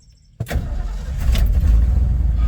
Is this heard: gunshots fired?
no